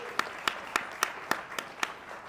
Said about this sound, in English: we need to give a round of applause to George Nikolakoulis